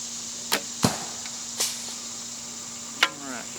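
Several sharp snaps of a Hoyt bow shooting an Axis arrow ring out close by, each a quick crack with a thudding follow-up, spaced irregularly over a steady outdoor hiss, one ending in a brief ringing twang.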